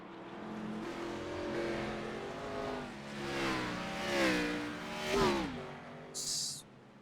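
An iRacing race car on the Charlotte Roval slowing into pit lane, its engine note droning and shifting pitch in rising and falling sweeps, close and steady, ending with a short burst of hiss.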